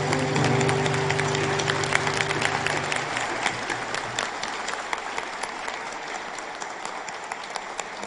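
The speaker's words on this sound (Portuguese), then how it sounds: "Saudemos Santo Antônio com palmas" A church congregation applauds loudly and steadily in honour of Saint Anthony during a Mass at the Saint Anthony parish, the broad clapping sustained with sustained tones lingering beneath at first before they fade.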